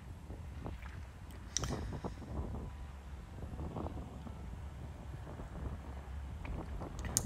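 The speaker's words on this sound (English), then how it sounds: "you can see, hear how windy it still was" Wind buffets the microphone in gusty low rumbles at an outdoor horse riding event, with occasional sharp knocks and rustles breaking through the steady outdoor noise.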